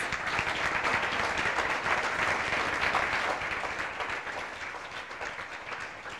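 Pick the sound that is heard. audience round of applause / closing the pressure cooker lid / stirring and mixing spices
audience round of applause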